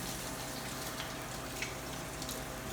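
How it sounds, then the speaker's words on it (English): Running tap water pours steadily over rinsing hands in a kitchen, a faint, even hiss with no pauses and no talking. "let's rinse our hands here"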